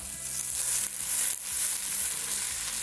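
Three garlic cloves frying in olive oil, a loud, steady crackling sizzle close by, with brief stirring scrapes breaking through partway.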